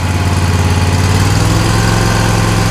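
A commercial zero-turn mower engine runs steadily at half throttle, a close, loud, even drone with a rapid mechanical pulse and no voices over it.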